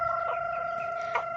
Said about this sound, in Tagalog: Maingay na kasi yung yung chicken, yung mga manok sa labas